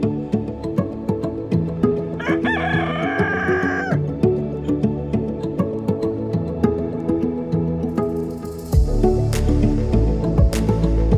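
Chickens cluck repeatedly at close range on a homestead, with a rooster crowing loudly partway through, amid steady ambient farmyard noise.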